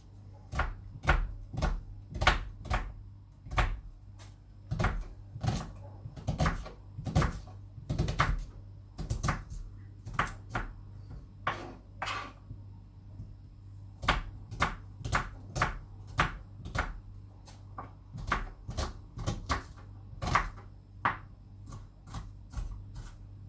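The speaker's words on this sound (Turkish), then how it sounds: "Evet soğanımızı da doğradık." Rapid, sharp knife chops through an onion on a cutting board, coming in quick irregular bursts with brief pauses, close and crisp, no talking.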